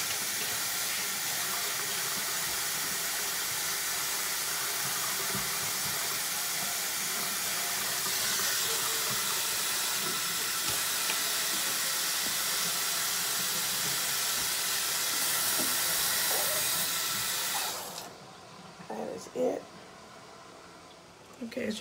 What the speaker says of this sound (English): as you can see, the water is finished boiling